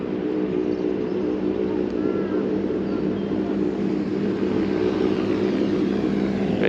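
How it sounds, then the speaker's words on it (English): A noisy tractor drives past near a river bridge on the Devon–Cornwall border, a loud, continuous low engine rumble that holds steady throughout. "That noise is a tractor going past."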